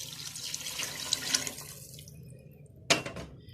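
Four glasses of water poured into a pot of beef stew pieces on a kitchen stove: a steady splashing stream for about two seconds, then quiet, and a sharp clink of glass or pot near the end.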